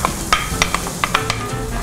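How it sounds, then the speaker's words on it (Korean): Shiitake mushrooms frying in rapeseed oil in a pan, a steady close sizzle broken by sharp crackles and the scrape of stirring, heard without any talking. "그다음에 이제 제일 먼저 표고를 먼저 넣을게요."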